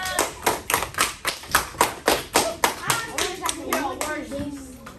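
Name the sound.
class clapping hands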